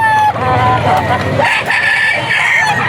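A bullstag gamefowl rooster crows loudly and close at a busy poultry market in Bocaue, its drawn-out call rising over a dense background of other fowl calls and crowd noise.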